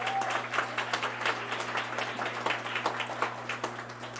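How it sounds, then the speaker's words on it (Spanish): Guests at a quinceañera celebration applaud together, a steady patter of many hands clapping at moderate volume over a constant electrical hum, without talk. "Vamos a darle un aplauso a Consuelo."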